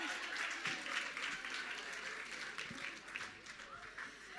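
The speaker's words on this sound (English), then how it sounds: "Give her a round of applause." A crowd at the Women in Tech Africa awards applauds an honoree in a dense, steady round of clapping. A few sharper claps stand out, and faint voices murmur underneath.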